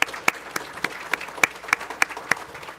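An audience at a powerline technician graduation ceremony claps in a steady round of applause, with sharp individual claps standing out through close, moderately loud clapping.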